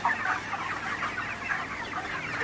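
A flock of ready broiler chickens on a farm, misted with water during hot weather, clucks steadily at moderate volume, with overlapping calls running the whole time.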